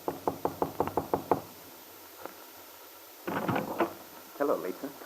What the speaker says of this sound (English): now Paul stands before her door waiting for an answer to his knock.